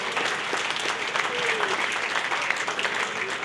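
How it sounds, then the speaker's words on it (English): A dinner audience at a chamber of commerce installation gives a round of applause for Joe LaRocca, its oldest member, steady clapping from many hands in a room, moderately loud and unbroken. "a round of applause for Joe LaRocca"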